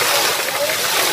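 Water gushes from a newly drilled borewell at a bore point in Ahmednagar district, a steady, loud, broadband rushing roar with splashing that runs unbroken throughout.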